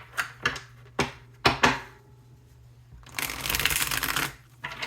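Tarot cards being shuffled: several quick riffling bursts, then a longer, louder riffle, close up with no talking.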